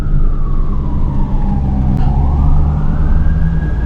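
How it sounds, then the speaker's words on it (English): A loud police siren wails steadily, its pitch sliding down and then rising again, with heavy low rumble of traffic or an engine throughout. "I heard the fuck out them sirens though."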